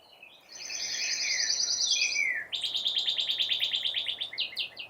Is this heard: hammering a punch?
no